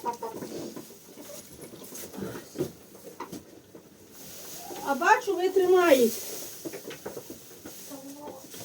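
A hen clucks in a shared goat-and-chicken barn, a short burst of rising, warbling calls in the middle, with people talking before and after it.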